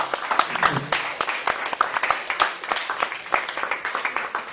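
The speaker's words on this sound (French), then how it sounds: "Je vous demande de les applaudir" Group of people applauding, a fast irregular patter of close hand claps running steadily throughout, with a faint voice briefly underneath at the start.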